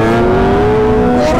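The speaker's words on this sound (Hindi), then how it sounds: "भाई को बोला मैंने विली मारने के लिए, लो जी भाई विली चेक करो" Sport motorcycle engine revving hard during a wheelie, a loud close rising drone that holds steady high, with no talk.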